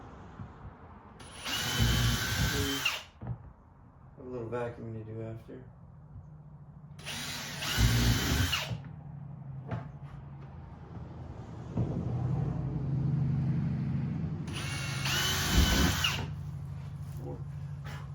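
A power drill with a 5.5 mm bit bores holes during a Sea-Doo Spark Trixx storage bin install, in three loud separate bursts of a few seconds each, with someone talking quietly between them.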